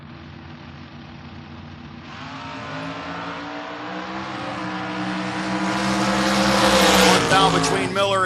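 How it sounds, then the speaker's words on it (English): A sponsored Chevelle drag race car launches at a door car shootout, its engine building from a low rumble into a loud, rising roar that peaks near the end, with faint tire noise and no talk over it. "Larry Miller, the MightyMouseSolutions.com sponsored Chevelle 583 dialing"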